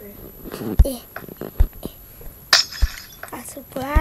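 Glass shattering in Minecraft, several short sharp crashes and clinks scattered through the stretch, with a voice talking and laughing between them.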